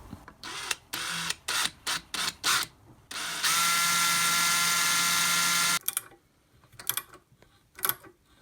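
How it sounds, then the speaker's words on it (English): A 5mm twist drill cuts a witness mark in a short run of bursts, then one sustained whir of several seconds, then a few softer taps and clicks in a quiet workshop. "So we'll just make a witness mark with this."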